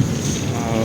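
Wind buffeting a microphone outdoors at an airport on a cloudy, blustery day, a continuous low rumbling rush with no break over a brief moment.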